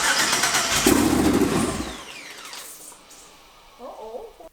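Twin turbo Ford Mustang engine cranks and fires up loudly with a rising roar, then settles and fades as people begin talking near the end.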